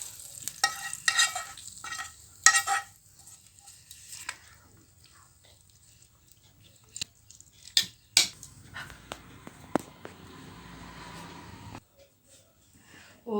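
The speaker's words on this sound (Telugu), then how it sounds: "తాలింపు ఇందులో వేసుకొని కలుపుకోవాలి" A spoon stirs a fried tempering into tomato peanut chutney, giving scattered scrapes, clinks and soft wet sizzles in short irregular bursts with quiet gaps between them.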